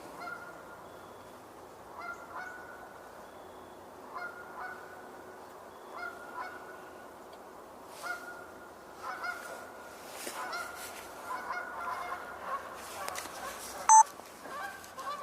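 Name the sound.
geese honking near water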